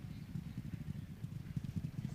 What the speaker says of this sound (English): Let's Go Champ improves in between horses